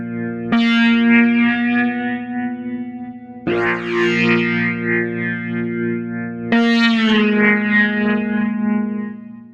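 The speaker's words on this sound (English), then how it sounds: "Some of those bends and hammers, they sound really cool with the distortion added." Soundiron Sitarion virtual sitar, played with bends and hammer-ons through heavy distortion: three sustained, buzzing notes, each struck sharply, then ringing and bending with a rich reverberant tail.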